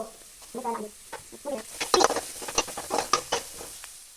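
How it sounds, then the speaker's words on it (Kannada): Onion stirred and frying in a pan while making bread toast, with repeated scraping and clattering strokes over a light sizzle, close and irregular, no talking. "ಒಂಚೂರು ಆನಿಯನ್ ಹಾಕಿ ಫ್ರೈ ಮಾಡ್ತೀನಿ."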